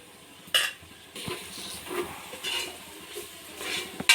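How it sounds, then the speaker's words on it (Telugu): Ginger garlic paste frying in a pan, a steady soft sizzle broken by scraping stirs and a few sharp clinks of a spoon against the metal, close up with no talk. "ఈ అల్లం వెల్లుల్లి పేస్ట్ అయితే పచ్చివాసన పోయేంత వరకు అయితే వేయించుకుందాము"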